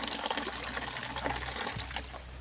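Water runs from a faucet at a farmhouse in Cavinti, Laguna, a steady close gushing splash with a low background hum, no talking.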